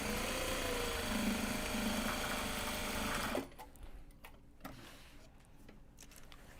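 A sewing machine stitches Japanese fabric for a Kato drawstring bag, humming in a loud, fast, steady run for several seconds before stopping abruptly, followed by quieter handling clicks and rustles nearby.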